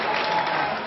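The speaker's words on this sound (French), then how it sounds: "Applaudissements pour les répliques de Nicolas Sarkozy" Supporters of the UMP party gathered in a discotheque applaud Nicolas Sarkozy's lines in a brief, dense burst of clapping from a crowd, heard for about a second with a muffled, broadcast-like tone.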